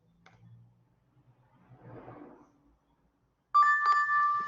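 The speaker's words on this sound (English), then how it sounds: "then we will get a notification either on our cell phones or via email" A notification alert chime, a bright tonal ding with harmonics, sounds suddenly and loudly near the end after quiet background rustle and a brief murmur.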